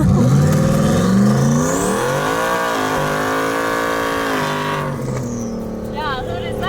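An 800hp turbocharged Mustang launching hard from a dig, its engine roaring up through the revs close by and loud, with people talking over it as it pulls away.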